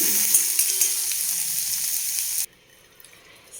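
Chopped onion, curry leaves and garlic sautéing in a pan, giving a bright, steady sizzle that cuts off abruptly after a couple of seconds, leaving near silence.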